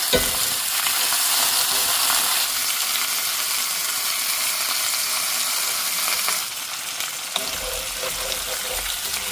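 Potatoes fry in a very hot pan with bacon fat lard, giving a loud, steady sizzle with stirring scrapes that continues close up throughout, easing slightly near the end.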